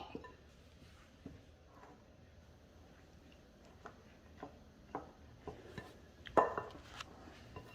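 Banana bread batter being stirred in a bowl, with faint, irregular scrapes and light clinks of a utensil against the bowl over a quiet room; the taps grow a little louder and more frequent toward the end.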